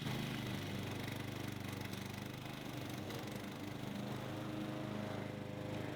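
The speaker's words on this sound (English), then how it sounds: "My mom's trusty push mower, the old brush cutter we found in the garage." Steady droning hum of an old push lawn mower engine, used as a brush cutter, running continuously at moderate distance around an abandoned Italian farmhouse, rough and even with no pauses.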